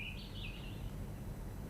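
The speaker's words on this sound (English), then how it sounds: "The birds. Listen." Birds chirp in a garden, a short bright run of high calls early on, then fading into a steady low rumble of background noise with no other distinct sounds.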